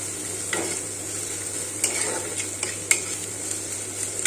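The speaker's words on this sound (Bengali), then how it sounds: "ফ্রাই বসিয়েছি পেঁয়াজ এতে আদা লঙ্কা রসুন" Chopped onion with ginger, chilli and garlic frying in a pan gives a continuous hissing sizzle over a low hum, with a few light clicks of a stirring spoon.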